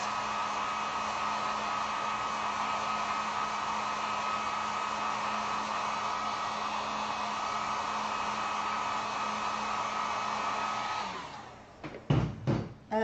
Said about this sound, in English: Heat gun, whoa, on for just 1 second. Low heat.